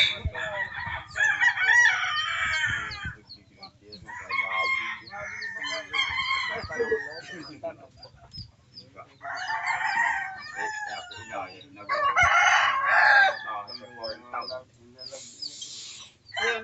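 A rooster crows several times, loud and drawn out, with pauses between calls and some background murmuring.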